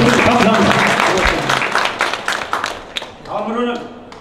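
Audience applause at a Yongsan artists' invitational exhibition opening ceremony, a steady wash of clapping from a gathered crowd that rises and fades over a few seconds while a voice speaks over it.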